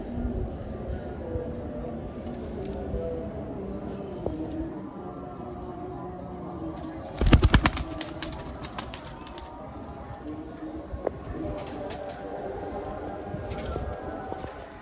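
Pigeons raised for racing coo and rustle in a loft, with a burst of wing flapping midway over a busy, steady background din, close and without speech.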